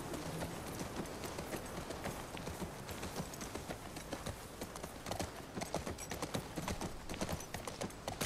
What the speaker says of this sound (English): I was talking about the actual horse.